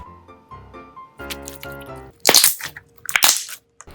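Homemade foam slime being poked, soft tones at first, then several dull, wet squelching pops in quick pairs, close and fairly loud.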